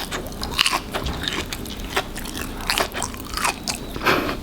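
Repeated crisp bites and crunchy chewing of pan-fried cheese, close and alone, with sharp crunches spaced every half second or so and softer mouth sounds between.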